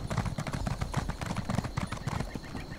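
In The Elder Scrolls Online, a horse's hooves clatter as a character rides up and dismounts near the Temple of the Tribunal: quick, uneven clip-clop steps, close and fairly loud, heard alone without talk.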